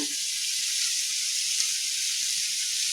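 Steady close sizzling of chopped bottle gourd (lauki) frying in an oil-filled pan, a continuous bright hiss with no pauses and no voices.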